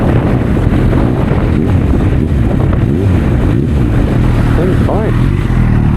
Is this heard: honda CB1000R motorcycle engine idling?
yes